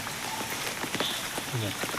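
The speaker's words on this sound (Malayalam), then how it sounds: "നല്ല മഴ ഇപ്പോൾ" Heavy rain pours onto NH 66 at Randathani in Malappuram, Kerala, a dense, steady patter of drops hitting the road, with a voice speaking briefly.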